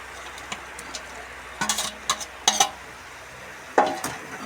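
Fried chicken being stirred into tomato sauce in a pan, with scattered scraping clinks of a utensil against the pan in short clusters over a quiet background.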